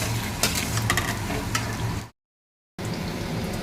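Potatoes frying in hot oil, a steady crackling sizzle with stirring clatter, briefly cut to silence before the sizzle resumes.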